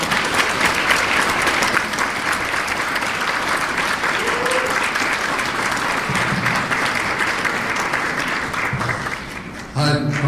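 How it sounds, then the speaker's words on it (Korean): Large lecture audience applauding as a professor walks on stage for a humanities talk, a sustained, full roar of clapping from a crowd that fades slightly before ending abruptly. "최재천 교수님 나오실 때 큰 박수 부탁드립니다"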